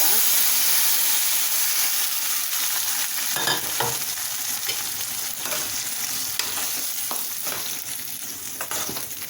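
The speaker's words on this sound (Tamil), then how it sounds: "நம்ம இப்போ பூசணிக்காய் எடுத்து போட்டுக்கலாம்" Pumpkin pieces sizzle and hiss in a pan with well-sautéed onions for a Tamil pumpkin kootu. Steady frying runs throughout, with close spoon scrapes and stirring strokes.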